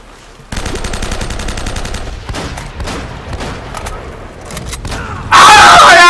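Rapid bursts of video game gunfire from Uncharted: Drake's Fortune, loud and sustained automatic fire over several seconds, ending in a harsh, louder burst.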